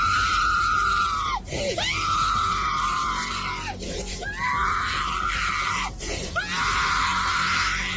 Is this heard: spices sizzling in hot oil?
no